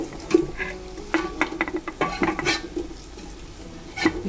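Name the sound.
stirring squash in a pot for pinakbet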